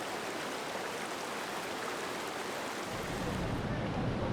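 A mountain stream rushes beside a small waterfall in the Adirondacks, a steady broadband wash of flowing water that swells fuller and louder partway through, with no voices standing out.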